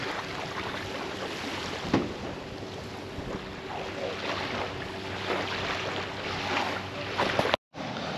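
Sailboats and other boats heading out on the water off a small beach in Key West, heard as a steady wash of wind and water noise with faint engine hum throughout.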